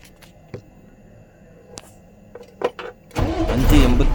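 A 2015 twelve-wheel lorry's engine cranks and fires after a few scattered knocks and clicks, then settles into a loud, rumbling idle close by.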